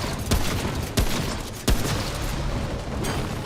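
Gunfire in the video game Remnant: From The Ashes: a dense, continuous volley of shots with a few sharper, louder blasts standing out, loud and close throughout.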